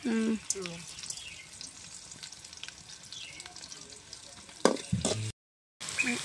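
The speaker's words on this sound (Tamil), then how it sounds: "இப்போ வந்து உப்பு போடுறேன் வெங்காயம் வதங்கிறதுக்கேன்." Onions fry with salt in a pan in a home kitchen, giving a quiet, steady sizzle with a few louder scrapes and clatters near the end and a brief dropout into silence.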